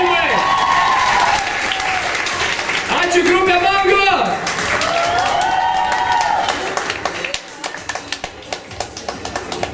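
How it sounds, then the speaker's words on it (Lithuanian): An audience at a school christening event for first-year pupils claps at the end, with loose scattered claps following a loud voice over a sound system. "Plojimai!"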